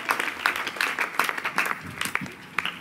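An audience claps in thanks to Father Damala Vijay Kumar at an Easter gathering: a steady patter of many hands heard from a short distance, fairly soft, for a few seconds.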